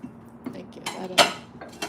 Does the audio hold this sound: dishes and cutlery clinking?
yes